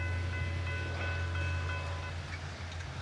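Switcher and Geep diesel locomotives roll away in steady rain, a low engine rumble holding beneath constant rain hiss and faint steady tones, with no talking.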